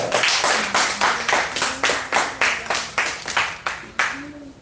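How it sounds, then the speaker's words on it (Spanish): A church congregation claps in rhythmic unison for the glory of God, loud near beats repeating steadily about every third of a second, with a few voices mingled in. "¿Cuánto aplauden la gloria de Dios en esta hora?"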